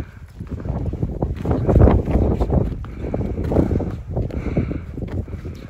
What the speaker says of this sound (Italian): C'è un vento fortissimo, non so quanto si sente